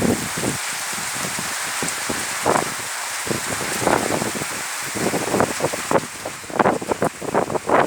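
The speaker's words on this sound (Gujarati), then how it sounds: "અતિ ભારે વરસાદ પડી રહ્યો છે" Heavy rain pours steadily with gusty wind buffeting the microphone in a village in Ranpur taluka, Botad district, the downpour swelling louder in bursts toward the end. No voices.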